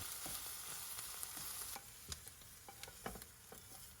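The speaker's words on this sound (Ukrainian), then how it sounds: "В сковорідку влийте олію та закиньте гриби, які потрібно обсмажувати" Steady oily sizzling of mushrooms frying in a pan, with scattered pops and scraping from stirring, fairly close and continuous.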